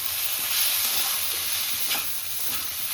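Ground neem leaves, fried earlier, are stirred into a frying dish of neem ghonto with potato, eggplant and bori, giving a steady close sizzle with soft scraping strokes and no talking.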